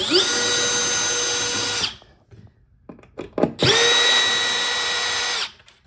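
Power drill backing screws out of a plinth heater, two loud close whirring bursts with a short gap of clicks and handling noise between them.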